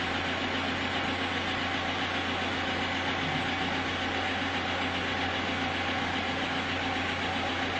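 A car engine, remote-started by a phone code, idles steadily and evenly at close range throughout with no other sounds, staying on without shutting off.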